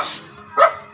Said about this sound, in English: And sorry for the barking.